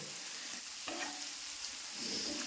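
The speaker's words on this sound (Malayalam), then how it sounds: "അപ്പോൾ ഇതിനെ ഇവിടെ കിടന്ന് നന്നായിട്ടൊന്ന് മൂത്ത് മുരിഞ്ഞു വരട്ടെ" Ripe red chillies frying in a pan give a faint, even hiss of sizzling oil with a couple of light stirring taps, quiet and close.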